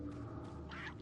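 Chickens in Resident Evil 4, a video game: a brief, faint, nasal clucking call from a bird over a low background hum, with no talk.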